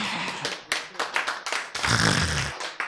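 An audience at a Korean church lecture claps in bursts of irregular slaps, building into a fuller round of applause near the end.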